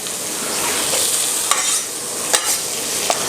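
Onion frying in olive oil, a close, steady crackling sizzle that runs without a break, punctuated by a few light clicks of a stirring spoon against the pan, with no voices.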